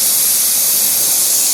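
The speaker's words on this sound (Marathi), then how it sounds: "कुकरचे झाकण लावून फक्त 2 शिट्ट्या होऊ द्या" A pressure cooker cooking veg pulao lets off a steady, loud hiss of escaping steam under its whistle, continuous and close throughout.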